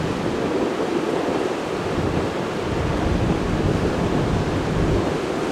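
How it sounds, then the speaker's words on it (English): Strong wind roars steadily outdoors at Orlando International Airport on a drizzly, low-cloud day, a loud broadband rush buffeting the microphone with no speech over it. "Wind's blowing pretty good now."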